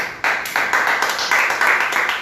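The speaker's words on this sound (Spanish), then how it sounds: "un aplauso a Dios en esta noche" Church congregation clapping together during an evening Spanish-language service, a fairly close, loud run of rhythmic claps in quick, roughly regular bursts with no voices over it.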